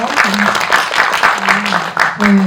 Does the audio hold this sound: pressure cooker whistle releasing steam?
no